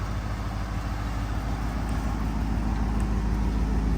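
A 1965 Ford Thunderbird convertible idles nearby, a steady low rumbling engine with an even, continuous throb and no talking.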